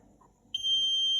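An Arduino buzzer sounds when an ultrasonic sensor detects motion, starting abruptly as a steady, piercing high beep that holds to the end, with no voices.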